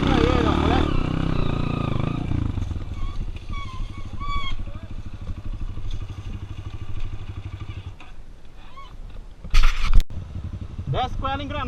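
A Honda Tornado 293 cc dirt bike rides down a trail at low, steady engine revs, close and loud, with clattering over rough ground and a brief louder burst near the end; people talk throughout.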